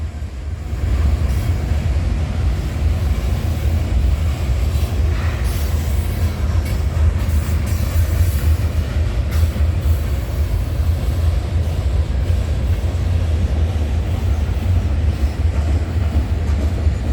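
A CN freight train with an Elgin Joliet & Eastern heritage locomotive passes trackside at night in a long, steady rumble of wheels and cars, with rhythmic clacking and occasional faint squeals, heard close and alone.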